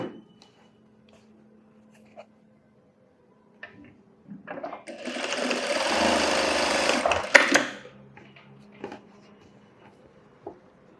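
A sewing machine stitches a scalloped-model blouse in a tailoring session, a loud continuous whirring run of about three seconds with a few light clicks and handling taps before and after.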